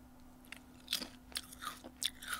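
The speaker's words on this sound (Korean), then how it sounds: "먹어보도록 하겠습니다" A crunchy onion-flavoured snack is chewed close up, with several sharp, irregular crunches over a quiet background and no talking.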